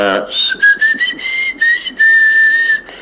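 A person whistles through their teeth, producing a loud, sharp, high tone broken into a series of short repeated bursts followed by a longer held note, close and alone.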